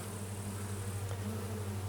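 Honey bees buzz in a steady, close drone at an apiary hive, a continuous hum with no other sounds or talk.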